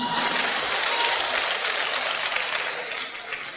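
Loud audience applause at a gathering, a continuous dense burst of clapping that holds steady for a few seconds.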